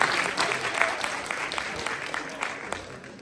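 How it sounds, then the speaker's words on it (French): Theatre audience applauds a volunteer invited onstage, dense sustained clapping filling the room throughout, loud and close with a faint voice underneath. "Eh ben on l'encourage, on l'applaudit."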